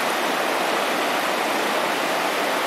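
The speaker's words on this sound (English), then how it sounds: "Here we are at one last ford. This is over Wind Lakes Creek" Wind Lakes Creek rushing at a ford in the Selway Bitterroot Wilderness of Idaho, a steady, dense wash of flowing water heard close and alone.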